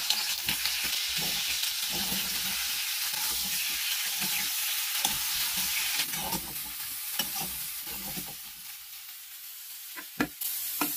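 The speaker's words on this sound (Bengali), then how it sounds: "এখন সাদা তেলে আলু আর ফুলকপিগুলোকে একসাথে ভেজে নেব" Potato and cauliflower pieces fry together in white oil for a cauliflower roast, giving a continuous moderate sizzle broken by irregular scraping stir clicks and a few sharper knocks near the end.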